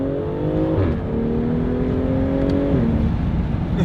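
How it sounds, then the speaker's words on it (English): BMW X4 M40i with Valvetronic exhaust valves open accelerating through the gears, a loud, steady engine drone heard from inside, with two clear drops in pitch at the shifts. "When I hit second gear, I'm gonna open up the valves so you guys can hear."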